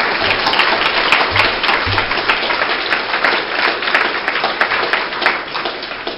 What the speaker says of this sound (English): if you want to applaud, you can